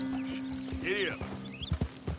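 Horse hooves clip-clop in the video game Red Dead Redemption 2, a few soft uneven hoof thuds, closer toward the end, mixed with a short whinny-like tonal cry and a background hum.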